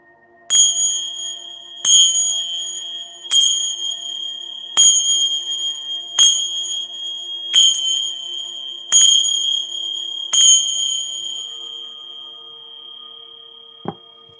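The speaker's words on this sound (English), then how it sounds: "clear the space with my temple bells" Temple bells struck about eight times at an even, unhurried pace, each ring clear and close with a long shimmering decay, followed by a single soft knock near the end.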